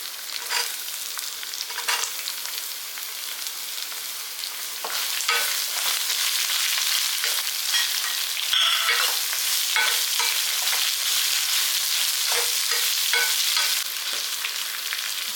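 Green chillies and bottle gourd stirred and frying in a hot pan, a steady broadband sizzle with scraping stir strokes throughout, loud and close with no talk.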